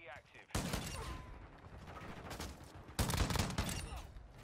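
Shotgun blasts ring out in Call of Duty Modern Warfare 2, with two loud bursts of gunfire amid the rumble of ongoing match action, while someone talks over the game.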